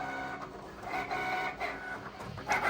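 A vinyl cutting machine feeds and cuts graphics for a 1-inch scale ATSF GP60M locomotive model, giving a steady mechanical whir with shifting motor tones and small clicks, close by.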